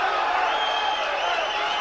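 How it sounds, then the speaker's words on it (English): Crowd at a heavyweight boxing match between Larry Holmes and Art Card, a broad roar of cheering and shouting from the arena, steady and loud throughout. "Draws some cheers from the crowd."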